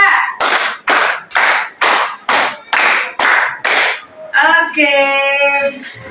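A class claps a 3-3-2 rhythm together, producing seven crisp, loud group claps in a steady beat, followed by a brief voiced shout or call at the end.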